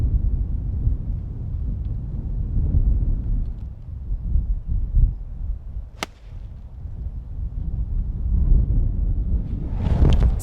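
Wind gusting across an open golf course at Devils Tower Golf Club in Wyoming, a loud, continuous low rumble buffeting the microphone, with a sharp snap near the middle and a brief hiss near the end.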